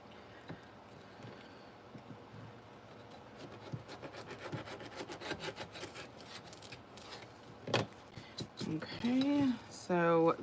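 Paper being trimmed for a junk journal pocket, a soft scraping, rubbing cut repeated in short strokes, close by. A voice talks over it and grows louder near the end.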